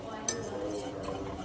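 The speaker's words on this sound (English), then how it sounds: "you can go ahead and put that flour in there and whisk." Flour is whisked into melted butter in a pan, a faint scraping swish with a single sharp metallic clink early on.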